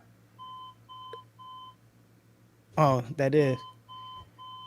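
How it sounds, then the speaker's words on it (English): A heavy-duty alarm clock beeps upstairs, muffled and moderately faint, in short evenly spaced bursts that repeat while someone talks over them. "That's my alarm clock upstairs."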